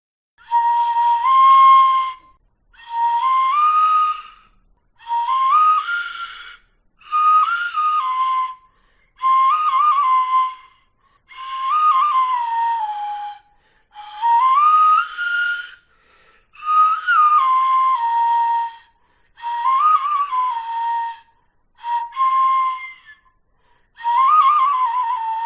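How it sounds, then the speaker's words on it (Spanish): A breathy pan flute recreating an ancient Numantine instrument plays a slow melody in separate phrases, each note sliding gently, with brief silences between phrases and no other sounds. "Los expertos apuntan a que podrían fabricarse como flautas de pan"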